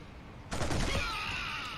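Rapid automatic gunfire from a weapon in the first-person shooter Killzone, a sudden loud burst that starts abruptly and rings out into a sustained rattling tail.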